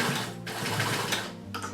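A sewing machine runs steadily while stitching a rug made from old clothes, a close, continuous mechanical whir with a brief pause partway through before it resumes.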